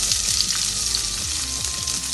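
Onion frying in a pan with mustard seeds and urad dal, a strong continuous sizzle with close, steady crackle and a faint low hum underneath.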